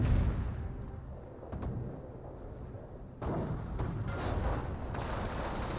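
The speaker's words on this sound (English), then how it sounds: "Wehrmacht snipers are firing away" Wehrmacht sniper shots and scattered gunfire in a Company of Heroes battle, with sharp cracks and bursts over a dense rumble of distant combat and explosions.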